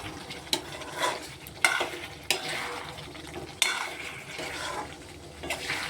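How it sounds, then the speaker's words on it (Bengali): Meat being stir-fried and browned in a pan with rose water and a drop of sweet attar added: a steady sizzle with scattered sharp scrapes and clanks of a spatula against the pan, close and moderately loud, no talking. "মাংসটা বেশ ভালো কষা হয়ে গেছে, আর একটু ভালো করে কষা হবে।"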